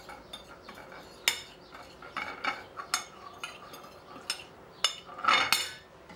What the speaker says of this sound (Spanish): vamos a mezclar los dos pimentones